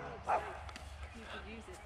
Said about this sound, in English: It's just a little dog.